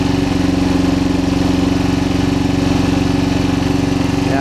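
Nmax Techmax 155 scooter engine fitted with a Vmax Onyx open muffler runs at a steady, loud, close drone with a rapid even exhaust pulse, holding constant throughout with no talk.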